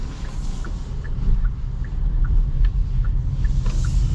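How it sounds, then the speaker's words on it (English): A Hyundai Ioniq 6 electric car pulls away under hard acceleration, giving a steady low road-and-motor rumble with faint high whine tones throughout, no voices. "Let's get another like full-blown acceleration and see if it continues to do that."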